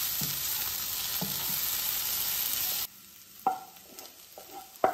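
Paneer tawa fry sizzles loudly in a pan with a couple of scraping stirs, then the sizzle cuts off abruptly, leaving a quieter stretch with a few sharp clinks.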